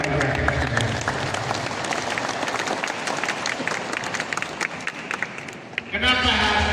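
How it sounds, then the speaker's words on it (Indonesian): Audience applause fills a Halal bi Halal gathering for Idul Fitri 1445 H, steady and loud throughout, with dense clapping layered over a spoken voice and a brief swell near the end. "Mohon tepuk tangan yang beribadah."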